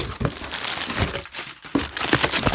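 Continuous close crinkling and crumpling of packing material while unboxing picture books, rustling loudly with brief pauses in between.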